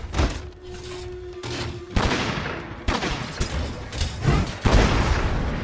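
Gunlance shelling in Monster Hunter World: Iceborne, a run of loud, close explosive blasts and booms in quick succession, with metallic mechanical clanks between the shots.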